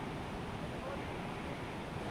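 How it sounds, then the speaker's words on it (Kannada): Heavy floodwater from torrential rain at Rayi rushes past in a dense, continuous roar that stays steady and fairly loud throughout, with no distinct breaks. "ಭಾರಿ ರಭಸವಾಗಿ ನೀರು ಹರಿತಾ ಇರುವಂತಹ ಸಂದರ್ಭದಲ್ಲಿ"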